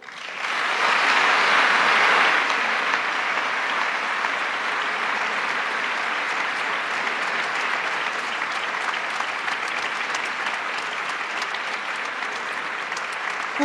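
Graduates applaud loudly in a hall at an ESSEC business school graduation ceremony, a dense sustained roar of many hands that swells at the start and carries on evenly throughout.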